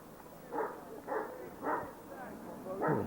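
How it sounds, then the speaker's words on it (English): A dog barks behind the crowd at an outdoor high school baseball game, four fairly faint evenly spaced barks carrying over the field's background noise, with announcers talking. "Dog barking behind us."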